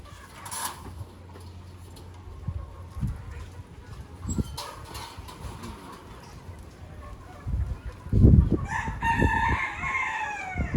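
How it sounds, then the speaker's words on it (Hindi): Desi breed roosters crow loudly near the end, with clucking and scattered farmyard noise before it; no talking. "ये सब देसी प्रजाति के मुर्गे हैं, सारे देसी मुर्गा मुर्गी सब हैं।"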